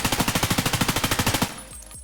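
An M4 rifle fires on full auto in Escape From Tarkov with no recoil control: a rapid, evenly spaced burst of about twenty loud shots over one and a half seconds, then the trailing echo fades out.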